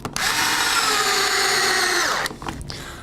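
Power driver backing out a screw while removing a pontoon: a loud, steady high-pitched whir for about two seconds that then stops, followed by faint clatter.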